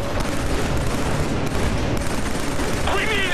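Rapid gunfire in Killzone 3, dense bursts of automatic shots crackling loud and close almost without pause, with a voice shouting over the shooting.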